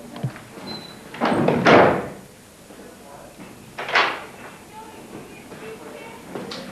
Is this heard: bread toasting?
no